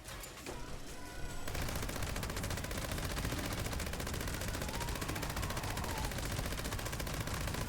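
Rapid automatic gunfire erupts in a video game after a short quieter lead-in, then continues as a dense, unbroken rattling barrage that stays loud and steady to the end.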